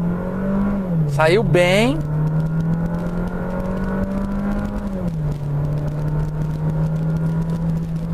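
A Citroën C4 Picasso THP with a steady, loud engine drone and rising tone as it accelerates from 0 to 100 km/h, the pitch dipping briefly at gear shifts, with a short spoken remark early on.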